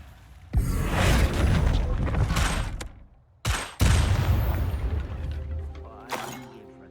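Bombarda blast spells go off in Hogwarts Legacy: two loud crashing bursts with crackling, debris-like tails, then a smaller, fainter burst near the end.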